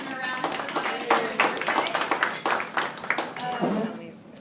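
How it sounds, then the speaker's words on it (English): Scattered clapping from a small audience at a records management seminar, a birthday round of applause with distinct individual claps in an uneven rhythm and some faint voices underneath, lasting around four seconds. "let's give him a round of applause for"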